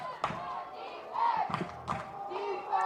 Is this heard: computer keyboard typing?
no